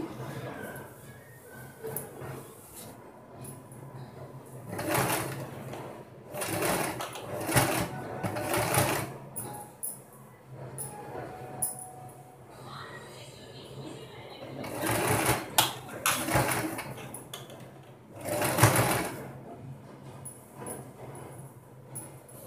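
A sewing machine stitches a designer blouse in irregular bursts, short runs of rapid needle chatter separated by pauses, up close, while someone talks quietly between runs.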